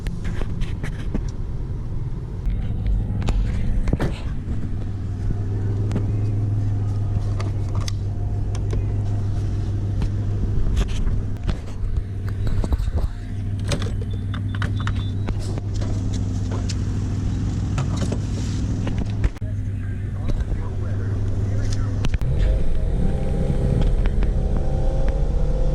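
A supercharged car engine, a $500 purchase with worn brakes, revs hard at roughly 80–90% throttle, a steady loud drone and rumble running continuously close by, with occasional sharp transients and faint voices.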